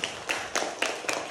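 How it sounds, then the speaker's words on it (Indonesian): A few children clap scattered claps at an uneven pace, about four sharp hits against a steady background hum in a classroom. "Raffi, tepuk tangan buat Raffi dong."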